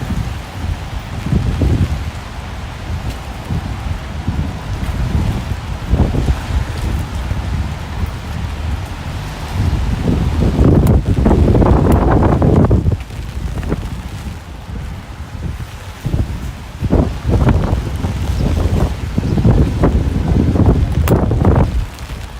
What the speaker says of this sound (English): It feels like we're now walking directly into the wind.